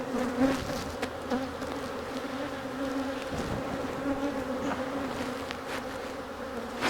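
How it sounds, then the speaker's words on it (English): Honey bees buzz steadily around an opened hive during a split made from swarm cells, a dense, continuous droning hum close to the microphone with no voices. "All these other bees are gonna come flying back here and take care of this nest."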